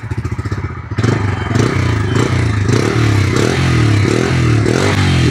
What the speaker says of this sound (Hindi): और बाकी उसके अलावा ये सुनो आप एग्जॉस्ट नोट